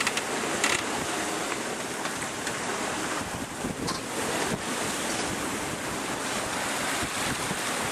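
Waves and wind on the open sea aboard a boat sailing from Nouméa to Santo, with broadband surf wash and buffeting wind noise filling the clip steadily, some sloshing bursts and faint mechanical creaks, no voices.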